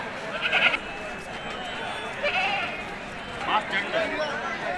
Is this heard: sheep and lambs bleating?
yes